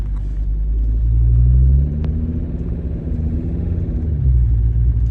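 Ford Ranger 3.2 engine idling with no boost and low power, a loud, continuous, throaty rumble up close with slight surges in its level.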